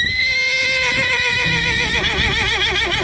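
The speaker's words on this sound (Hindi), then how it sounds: "एक घोड़ा अपना कंबल लपेटे खा पी कर आगे यात्रा के लिए खुद को तैयार कर रहा था" A blanketed horse resting on a pilgrimage trek lets out one long, loud, close neigh that wavers and trembles toward its end, with no other sound.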